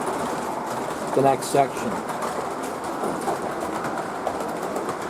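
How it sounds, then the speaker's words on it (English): An O gauge model train, an SD60M pulling auto rack cars on an 072 curve layout, rumbles steadily along the track as a constant hum, with someone speaking briefly over it. "here you guys can see the train actually coming through"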